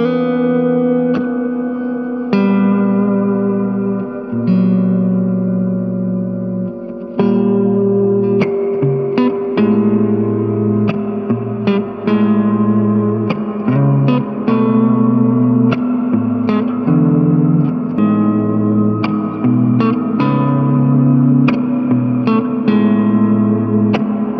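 Sustained, heavily reverberant guitar chords through a JOYO Atmosphere reverb pedal ring out with washy echo and shimmering decay, steady and loud with no talking.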